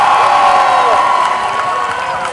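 A game crowd of Cherry Blossom Bombshell fans cheers and shouts loudly as one continuous roar, close and sustained throughout.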